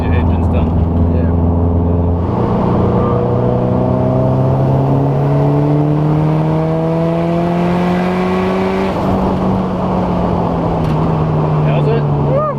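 A car engine revs hard during a run through a tunnel, its loud, close drone climbing steadily in pitch through the gears with a brief shift partway.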